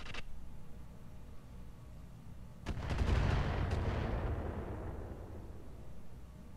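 Heavy weapons fire from battling mechs in a MechWarrior-style tabletop battle game, with a burst of booming blasts and crackling impacts starting mid-clip and rumbling off slowly, over a low steady background hum.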